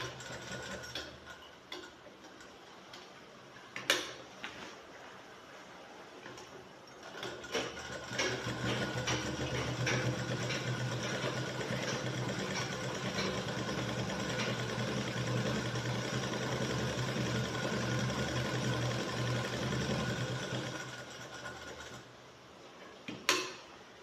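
A sewing machine runs steadily for a long stretch, stitching along the edge of a shirt collar band, with a continuous mechanical whir and faint clicks before and after the run.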